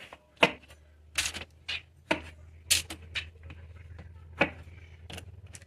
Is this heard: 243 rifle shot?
no